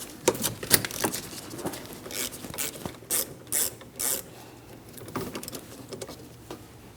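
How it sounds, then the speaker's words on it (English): A ratchet wrench loosens an 11mm banjo bolt on a rear brake hose at the caliper of a 2003-2007 Cadillac CTS, giving close, rapid clicking bursts in several short runs with pauses between them. "11mm for the banjo bolt, as I mentioned."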